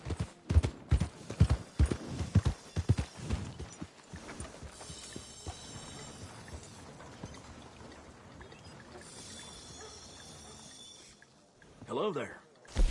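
Horse hooves clip-clopping in a quick, close run of sharp knocks at the start, then quieter background ambience with a few scattered sounds and a short burst near the end.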